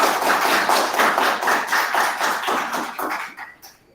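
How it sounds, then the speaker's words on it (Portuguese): An audience claps for a guest speaker after an online talk on mammal conservation, a dense run of many hands that fades out toward the end. "Pessoal, uma salva de palmas então para o Matheus"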